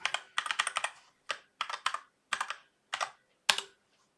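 Password being typed on a computer keyboard while setting up a Linux install: quick bursts of crisp key clicks in uneven clusters with short pauses between, close and clear, no talking.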